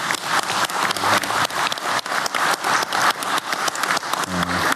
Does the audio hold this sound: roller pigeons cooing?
no